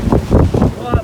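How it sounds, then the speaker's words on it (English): Strong gusts from a supercell storm in Underwood, Queensland buffet the microphone in heavy, roaring bursts, a few pulses within a second, loud and close. "Oh, wind's coming in that way."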